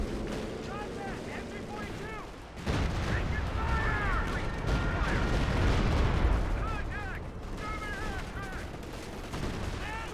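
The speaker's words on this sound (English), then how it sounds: "Rifleman opening fire in the Panzer Grenadier." Rifle and battle fire in Company of Heroes 2, a dense rumbling barrage of shots and explosions running continuously at moderate loudness, with a voice commentating over it.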